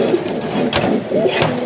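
Soft cooing and chirping from newly hatched pigeon squabs throughout, close by, with light handling noise in the background.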